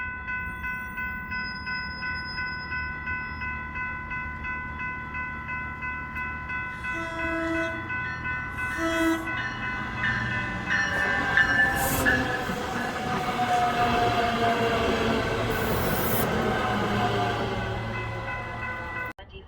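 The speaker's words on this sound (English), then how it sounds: "Train to Union Station now arriving on track 2." A Denver RTD Silverliner 5 electric commuter train pulls into Commerce City station on the N Line, with a steady horn and rail tones building into rumbling wheels and a mechanical roar as it arrives close by.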